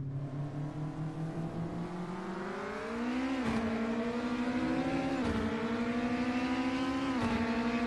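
A race car engine howls steadily through a hot lap in a sim-racing game, its pitch climbing, then dropping sharply at three quick gear shifts before rising again; loud and continuous with no talk.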